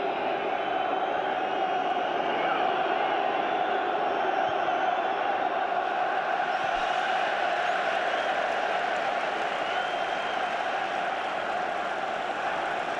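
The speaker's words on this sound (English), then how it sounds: "I think even the crowd here are getting restless now. A lot of whistles." Restless football crowd in a stadium, a steady dense roar with whistling mixed through it, continuous and fairly loud throughout with no single voice standing out.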